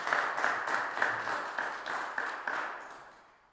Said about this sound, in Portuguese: Uma salva de palmas para o Bernardo